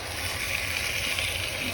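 A cup of water poured into a pot of goat curry makes a steady, close pouring gush with an even wash of splashing that runs without a break.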